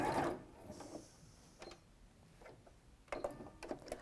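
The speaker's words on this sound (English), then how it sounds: "I'm sewing the outer edge of the peak" A sewing machine stitches the outer curved edge of a peak in thick dressmaking fabric, with the stitch length lengthened to 2.6. It runs in short, quiet bursts with a faint mechanical whir between pauses.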